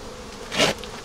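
Honey bees buzzing around beehive frames, a continuous close hum with one bee swelling loudly past for a moment.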